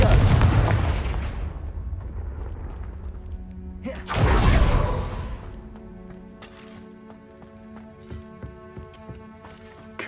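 Confringo fire spell blasting in Hogwarts Legacy, one loud booming burst near the start and another a few seconds later, followed by quieter crackling and ringing magical tones.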